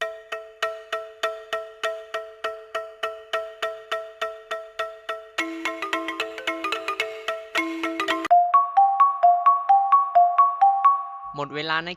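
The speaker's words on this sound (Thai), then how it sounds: "เสียงเครื่องดนตรีที่ได้ยินเมื่อกี้นี้ก็คือเสียงของโปงลาง" A Thai pong lang wooden xylophone plays quick, bright struck notes in a running melody, each tone ringing briefly before the next. A lower, different sound enters at the end.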